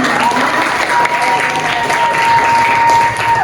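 Class applause in a chemistry lesson, a loud continuous burst of many hands clapping together, close and dense with a faint steady tone underneath.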